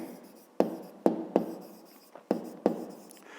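Pen writing on paper during a Ukrainian fifth-grade maths exercise, with about five sharp tapping strokes spaced under half a second apart over a soft continuous scratching, close and fairly quiet, no voices.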